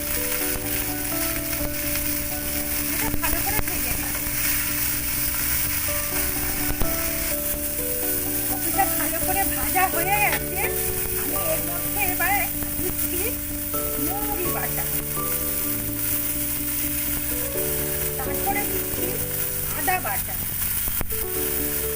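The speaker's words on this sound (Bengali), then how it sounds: "এবারে আমি ফুলকপিগুলো দিয়ে ভেজে নেব" Cauliflower florets frying in a pan for a korma, cooked with cloves and mace: a steady, even sizzle runs throughout beneath music with sustained tones.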